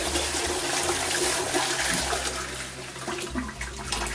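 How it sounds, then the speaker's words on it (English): A toilet in Paris flushes with a loud, close rush of water that roars steadily for the whole stretch and eases only slightly toward the end. "toilet flusher."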